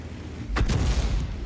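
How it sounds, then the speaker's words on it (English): A tank cannon shot from the Grille self-propelled gun in World of Tanks: a single heavy boom with a sharp double crack, followed by a low rumbling tail over steady game background. "There's a shot from the Grill"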